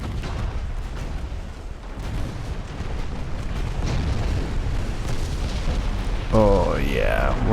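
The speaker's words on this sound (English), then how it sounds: "we're getting hosed by the battlecruiser. Gonna take a few incidental hits here." Battlecruiser shells striking a warship in the naval game Ultimate Admiral: Dreadnoughts, a steady rumble of low booming impacts and bursts throughout, with a sharper, louder hit near the end.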